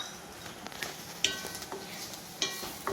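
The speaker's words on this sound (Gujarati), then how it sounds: "થોડી ડુંગળી શેકાવા દેજો. હવે આપણે મરચાં એડ કરીશું લીલા." Onions and green chillies fry quietly in a pan, giving a soft steady sizzle with a few sharp clinks and stirring scrapes.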